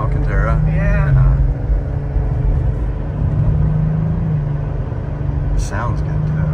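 A 2023 Cadillac CT4-V Blackwing engine hums at a low, steady cruise while driving, with faint shifts in tone, under people talking inside the car.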